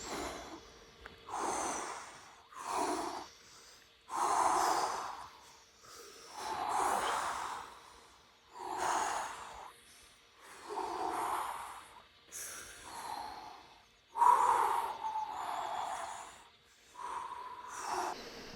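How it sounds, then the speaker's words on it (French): A group crouched in a half-circle before an ice bath breathes deeply together: about ten slow, loud, rhythmic inhale-exhale cycles, rough and close, with no talking. "On respire."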